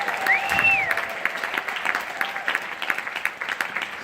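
Applause from arts educators at a state senator's proclamation event: a steady crowd clapping with a brief whistle at the start, continuing evenly throughout.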